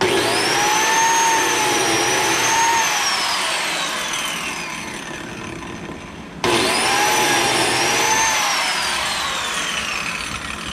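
A DeWalt biscuit joiner cuts slots into a wooden board, its high motor whine swelling as the blade plunges and easing off, then starting again for a second cut, loud and close with no talk.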